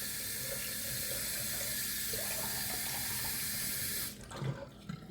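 Tap water runs steadily into a sink for a rinse during a wet shave, a loud continuous splashing stream that cuts off abruptly near the end, leaving a few soft handling sounds.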